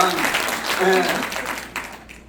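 Audience applause in a lecture hall during a talk at a mission conference, a broad patter of clapping that swells and then fades over a couple of seconds, with a voice speaking over the start.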